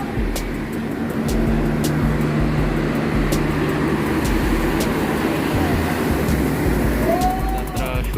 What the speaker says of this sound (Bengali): ট্রেন চলতেছে ধীরগতিতে